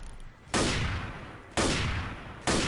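Sniper gunfire rings out in the Left 4 Dead video game, with three loud, sharp shots spaced about a second apart, each trailing off into a fading echo.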